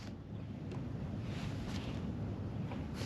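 Steady wind buffets the microphone outdoors during a fishing trip, a constant close rushing roar with no distinct events and no voices.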